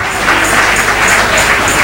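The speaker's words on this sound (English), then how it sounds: "Let's clap for him." Church congregation at a Sunday service clapping for a doctor who gave a health talk, a sustained, even patter of many hands with slight swells in intensity, no talking over it.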